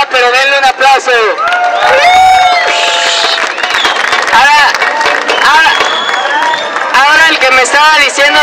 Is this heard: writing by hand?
no